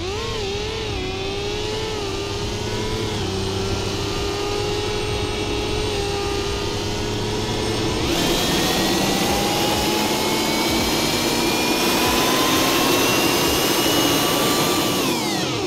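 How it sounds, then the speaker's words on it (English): A loud, continuous synthetic engine drone from the Scorpion car in ROBLOX Jailbreak, with whining tones that climb steadily in pitch as it starts, revs and accelerates. "The startup noise is kind of annoying, and it can be pretty loud."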